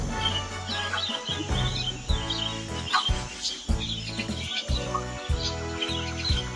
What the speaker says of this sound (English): Wild budgerigars, or budgies, are social nomadic little parrots